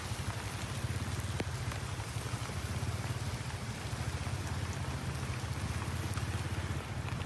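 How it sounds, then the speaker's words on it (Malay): Rain falls steadily during a motorcycle ride, a constant hiss layered over a low, pulsing engine drone, with no talking. "Ya, kita sangkut hujan guys"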